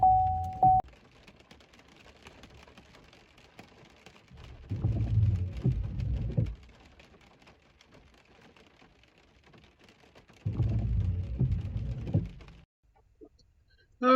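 Steady rain patters outdoors during a catfishing trip, swelling into two longer bursts of low rumbling thunder a few seconds apart, distant and moderately loud between quieter stretches of rainfall.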